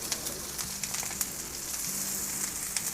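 Shami kababs made with lentils sizzle and crackle steadily as they fry in a pan of oil, a soft close-up spitting with small pops and no talking.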